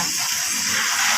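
Rainwater pouring off a roof sheet makes a dense, steady splashing gush, close and continuous with a bright hissy texture.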